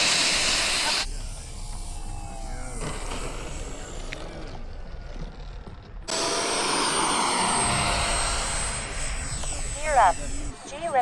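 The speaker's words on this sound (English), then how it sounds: "Reverse full." Aircraft engine roaring in reverse thrust during a landing at Fritz Field, a broad loud hissing rush that swells and continues under cockpit voices.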